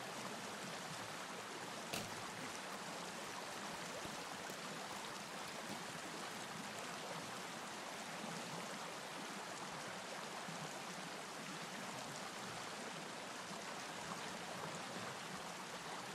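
Steady rushing of stream water in the survival game Sons of the Forest, a continuous broadband flow that holds even and close throughout with no talk over it.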